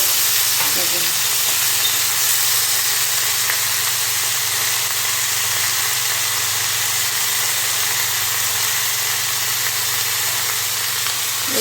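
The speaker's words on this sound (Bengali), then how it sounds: "এই যে দেখো মাংসটা কিন্তু কিছুটা ভাজা হচ্ছে" Steady, dense sizzling of chicken frying in a pan without oil, a continuous hiss with a low hum underneath and no talking.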